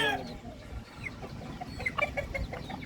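Chickens cluck softly in a farmyard, short intermittent calls from a hen and rooster at moderate distance over a background of ambient noise.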